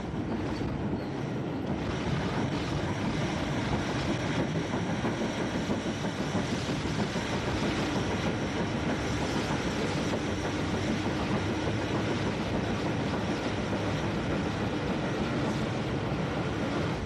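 Baltic tank steam locomotive hauling a train across a flyover beyond a junction in south-east England, a continuous rumbling roll of wheels and carriages with rhythmic clatter, heard from a distance.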